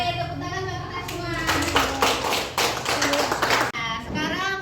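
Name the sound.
class applauding, clapping hands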